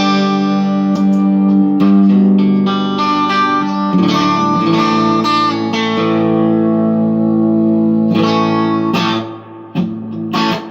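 Electric guitar played through an LMP Threefold custom triple overdrive pedal set as a light, transparent drive: ringing strummed chords with mild grit and sustain, several struck chords in succession, loud and up close.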